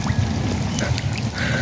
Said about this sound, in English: So the ice is melting all over the trees